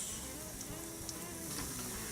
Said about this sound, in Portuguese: Vamos fritar os nossos bolinhos.